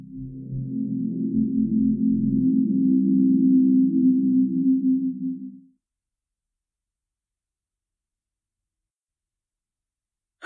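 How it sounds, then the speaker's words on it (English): An Amazon Echo Dot (3rd generation) finishing a factory reset plays a steady, low, humming chime. It holds at an even level for about five and a half seconds, then stops, and silence follows. "When the Amazon Echo Dot has finished resetting itself,"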